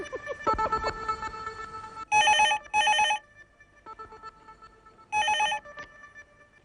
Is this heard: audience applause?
no